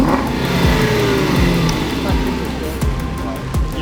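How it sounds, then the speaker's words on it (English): An Aston Martin V8 Vantage engine is revved hard, its roar rising and falling under steady background noise, with people talking nearby. "Do you mind if I give it a heavy rev?"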